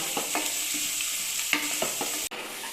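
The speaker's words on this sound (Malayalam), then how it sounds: "ഒരു രണ്ട് വലിയ സവാള പൊടിയായിട്ട് അരിഞ്ഞിട്ട് കൊടുക്കാം ഇതിൽ കിടന്നിട്ട് നന്നായിട്ടൊന്ന് ബ്രൗൺ കളർ ആയിക്കോട്ടെ അതുവരെ വഴറ്റാം" Two large finely chopped onions with salt sauté in a pan for egg butter masala, giving a steady close sizzle with repeated scraping stirs of a spatula and a sudden knock near the end.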